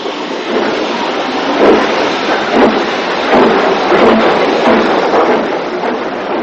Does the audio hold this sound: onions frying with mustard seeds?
no